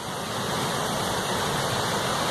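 Steady broadband roar of a waterfall in Keld in the Yorkshire Dales, heard on a November walk beside the river, continuous and fairly close with no voices.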